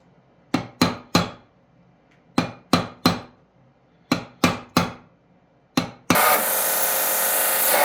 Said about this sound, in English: put it in here on the horn, and then give it a nice couple soft whacks here